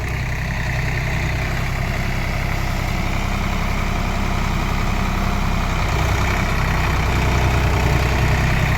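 A Swaraj 855 FE tractor engine runs steadily at low rpm, a deep continuous rumble that stays close and loud throughout with no talking.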